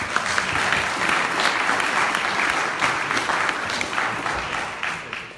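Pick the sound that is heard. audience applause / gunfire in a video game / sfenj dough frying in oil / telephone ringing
audience applause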